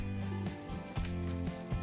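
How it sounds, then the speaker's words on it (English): Soft sizzling crackle of butter in a hot frying pan, with faint tonal hum and a few clicks in the background. "get sizzling here, the butter"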